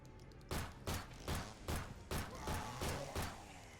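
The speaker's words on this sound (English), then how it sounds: "So I'm just going to waste one magnum round on him." Gunshots from a magnum and a pistol in the survival horror game Nightmare of Decay: about eight sharp reports in a fairly steady sequence, alone and moderately quiet.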